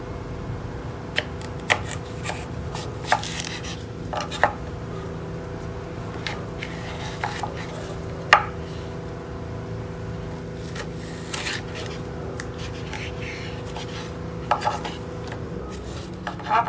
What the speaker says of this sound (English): I'm going to show you how to cut the green stripe melon into 8 pieces